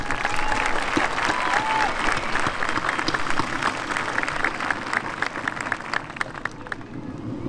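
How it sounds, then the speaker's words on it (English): Sustained applause from a large audience at a high school graduation ceremony, dense steady clapping filling the hall throughout without a break. "Audience, again, please give our staff a round of applause."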